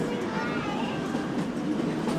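The Kalka Shimla toy train runs along its mountain railway in India with a steady, close rumble and clatter of wheels and carriages that continues evenly throughout.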